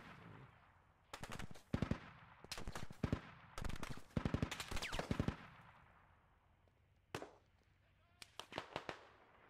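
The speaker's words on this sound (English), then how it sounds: "That's where the shots came from." Bursts of automatic gunfire and single shots in the Squad video game, rapid volleys cracking out in clusters with pauses between them, some sounding distant across open hills, with no talk over them.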